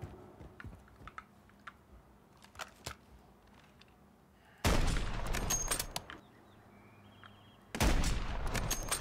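Gunfire in Call of Duty Warzone, two dense, loud bursts of rapid automatic shots following a stretch of scattered quiet clicks and taps.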